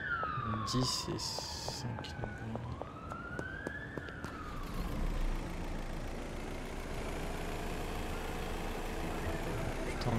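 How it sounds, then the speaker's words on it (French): A police car in the video game Schedule I, a wailing siren sweeping up and down over a steady engine rumble that fades into a sustained background drone, while a person speaks briefly. "Putain, une voiture de flic."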